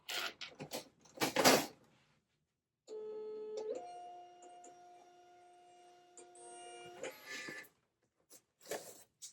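A printer runs a print job in a quiet room: steady mechanical whirring with tonal hum for several seconds, flanked by brief clicks and handling knocks before and after.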